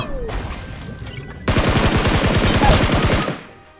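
Rapid bursts of automatic gunfire from a squad battle-royale shooter game, following a quieter opening, then a dense run of sharp, loud repeating shots lasting about two seconds before cutting off.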